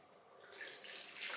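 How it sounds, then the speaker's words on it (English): Water runs and splashes faintly as a dry houseplant is soaked before repotting, a steady hissing flow that swells slightly toward the end. "So what I will do is I'll soak it first in water."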